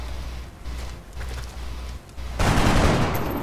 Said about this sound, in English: We have our steadied sniper, so we take a shot.